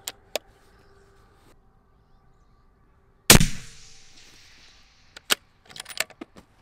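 A single loud, close 6.5 SAUM rifle shot cracks out with a long decaying tail, set among a few faint clicks and small knocks before and after.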